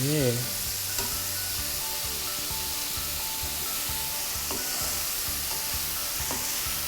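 Battered shrimp fry in hot oil over low to medium heat, giving a steady, dense sizzle and crackle throughout with occasional stirring and scraping sounds.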